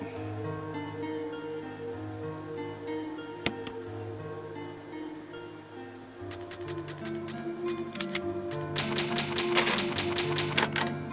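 Rapid mechanical clicks from a save-room typewriter in Resident Evil HD Remaster, a horror game, come in bursts over quiet background game music, growing busier and louder toward the end.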